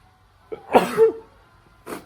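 One person sneezes loudly and close by in a quiet room, a short sharp burst with a brief breathy tail.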